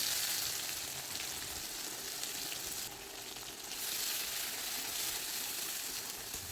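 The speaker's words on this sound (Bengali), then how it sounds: "এবার হাই ফ্লেমে মোটামুটি ওই 2 মিনিট সময় নিয়ে পেঁয়াজগুলোকে ভেজে নিতে হবে।" Chopped onions fry over high flame in oil seasoned with black cumin and bay leaves, a quiet, even sizzle with a brief dip midway and no talk.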